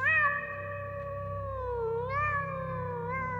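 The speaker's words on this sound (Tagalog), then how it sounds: "nagsimula na namang ngumiyaw ang itim na pusa sa labas" A black cat meows outside in one long, wavering, drawn-out yowl that rises and falls in pitch, close and clear over a low steady hum, with no talking.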